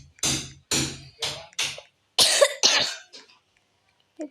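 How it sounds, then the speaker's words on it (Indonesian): A run of harsh, separate coughs from a person with a fever and cold, about seven bursts with short gaps, close and loud, then fading into a few faint breaths. "Batuk."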